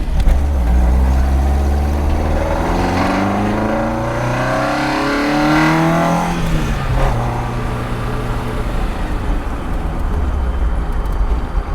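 Toyota KP60 Starlet with an Atlantic 4A-GE engine drives close by, its loud engine revving up through a gear change and settling into a steady rumble with no talking.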